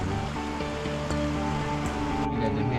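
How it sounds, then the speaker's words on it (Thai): Forest stream in Australia flowing steadily as a continuous broadband rush of water, close and even throughout with no voices, joined by a faint tonal hum. "ลำธารอยู่ข้างหลัง"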